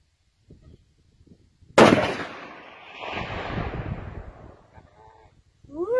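A scoped rifle fires one loud, sharp shot that rolls out in a long echoing tail outdoors after a quiet lead-in, with a brief voice at the very end.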